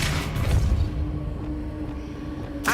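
A Depulso force spell cast in Hogwarts Legacy lands as a muffled boom and low rumble at the start, then fades into a steady background hum with a short burst at the end; no speech.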